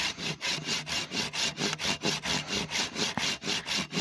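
A hand saw cuts through wood, used as a backup when a chainsaw chain has broken, in a fast, even back-and-forth rhythm of raspy strokes that is close and loud, with no talking.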